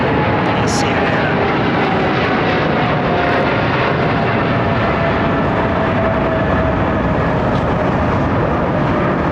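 An airliner climbs out overhead from runway 09R at London Heathrow, a loud, steady roar of jet engines filling the whole stretch, with people talking faintly beneath it.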